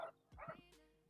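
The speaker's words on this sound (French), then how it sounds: "Il y a mon chien qui crie derrière, c'est marrant." A dog yelps and whimpers in the background, a couple of short, thin cries, fairly faint and brief amid quiet room noise during an online game session.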